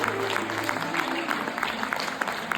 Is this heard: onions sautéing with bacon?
no